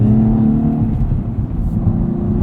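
Smooth, fairly muted turbocharged V6 engine hum from a 2016 Cadillac ATS-V Coupe at steady revs, close and continuous with a low droning tone.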